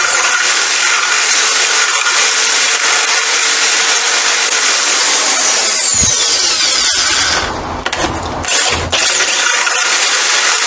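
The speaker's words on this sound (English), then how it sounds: "this drill bit is just over 12 millimetres. It should hopefully open up these holes just enough." A power drill with a bit just over 12 mm whines loudly and continuously as it widens holes in a metal bracket for a Kawasaki Z1000 Mk2, with the pitch dipping and a few brief clunks and pauses near the end.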